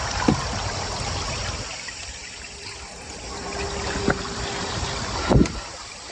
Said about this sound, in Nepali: यस्तो खोलाहरू कस्तो मन पर्छ नि तिमीलाई?